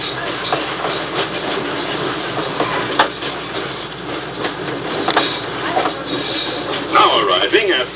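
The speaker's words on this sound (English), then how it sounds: "please remain seated until the train comes to a complete stop." A Disneyland ride train rumbles and clatters along the tracks at close range arriving at a station, with rhythmic wheel clicks and a brief high squeal near the end.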